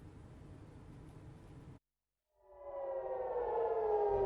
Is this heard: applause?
no